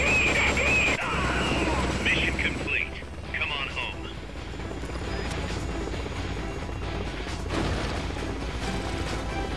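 Helicopter in Metal Gear Solid Peace Walker settling in to land, a continuous whirring rotor and engine drone under game sound effects, with a voice talking over it in German.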